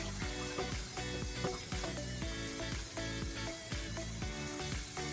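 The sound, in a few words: water rinsing potatoes in a pot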